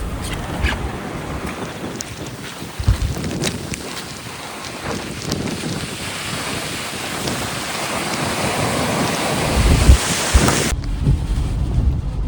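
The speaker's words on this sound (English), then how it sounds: "check out the wind gusts on the road" Strong wind gusts buffet the microphone beside a road near the beach during Cyclone Vaianu in Gisborne, a loud continuous roar with surging blasts and crashing surf mixed underneath, building louder toward the end.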